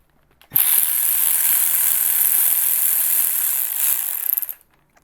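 Ratchet loosening a 13mm bolt on a Gen V engine's high-pressure fuel pump, a fast continuous clicking whir lasting about four seconds, close and clear, alone.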